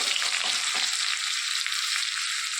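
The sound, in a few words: tempering cumin, chillies and peanuts in hot oil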